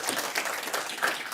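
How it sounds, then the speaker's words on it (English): Audience at a public-speaking course gives a brief burst of dense, steady applause at moderate loudness. "Give him a round of applause,"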